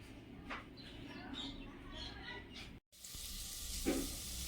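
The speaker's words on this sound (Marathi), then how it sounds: "इथे मी भाजीला फोडणी घालते बघा, वाटाणा बटाटा।" Tempering sizzling in a pan for a pea and potato curry, a soft low hiss with faint stirring clinks, interrupted by a brief cut and then returning slightly brighter, quiet and close.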